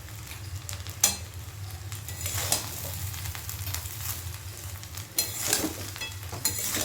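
Fried rice being stirred in a pan after sugar is added, soft continuous sizzling with a few sharp spatula knocks and scrapes against the pan, close and fairly quiet.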